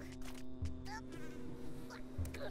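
A steady insect-like buzz of bees in the game Oddworld: New 'n' Tasty drones throughout, mixed with game music tones and occasional low thumps.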